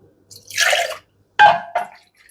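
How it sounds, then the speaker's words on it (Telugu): Rinse water from a blender jar is tipped into a cooking pan in two short bursts of splashing and trickling, the first longer, the second a brief splash with a few drips, separated by silence. "జారు కూడా కడిగేసి వేసేద్దాం"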